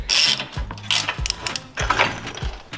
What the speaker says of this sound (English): to remove this bolt now, just slowly keep loosening it